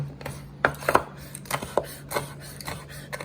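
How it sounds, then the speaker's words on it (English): A knife chopping bacon into dice on a cutting board for loaded deviled eggs, producing irregular crisp taps and thuds at close range with a faint steady hum underneath. "I'm going to cut diced bacon."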